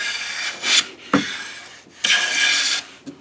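A bench plane takes shavings from wood in two bright, rasping strokes, with a dull knock between them and a faint tap at the end, close and clear with no talk.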